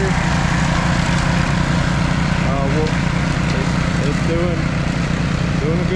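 A CFMOTO CForce 600 ATV in low gear drones steadily while pulling a bush hog mower through brush, a continuous loud engine and blade roar with no break throughout.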